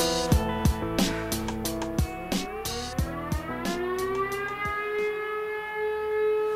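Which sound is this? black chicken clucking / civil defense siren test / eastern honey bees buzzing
civil defense siren test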